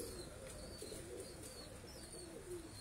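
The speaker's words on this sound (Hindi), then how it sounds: "ये सियालकोटी कबूतर है" A Sialkoti pigeon coos softly in a few low, rolling calls amid faint background noise, fairly quiet and close.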